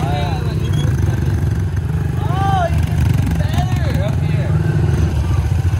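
A 110 dirt bike engine running in an urban setting, a loud steady mid-pitched drone with revving swells, close by, with voices talking over it.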